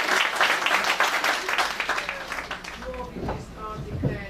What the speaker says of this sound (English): I think a round of applause first.